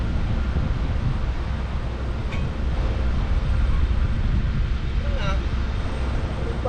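Strong wind buffets a microphone on a white sand beach, a steady loud roar with low rumbling gusts throughout, with faint voices briefly audible beneath it.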